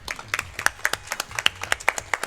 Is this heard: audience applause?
yes